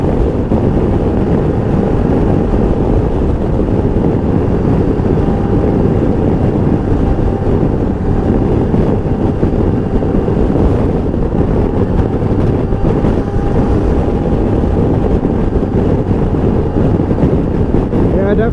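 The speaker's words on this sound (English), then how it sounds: "kind of windy today." Constant heavy wind buffeting roars across a microphone while riding a 2020 Sym MaxSym TL scooter, a loud broadband rush that never lets up.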